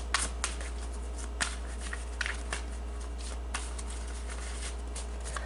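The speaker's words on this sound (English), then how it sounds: "let me just shuffle the other deck for you guys." A tarot card deck being shuffled up close, with a steady run of soft riffling and brushing card noise marked by several sharper snaps and slaps of cards, faint and continuous, with no voices.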